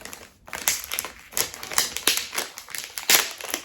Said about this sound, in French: Désolée pour les bruits d'ouverture du papier.